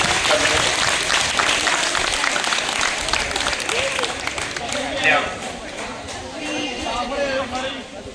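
Sustained applause from an audience at a government senior secondary school prize ceremony honouring students who earned top positions, dense clapping filling the whole stretch with a faint voice briefly audible over it.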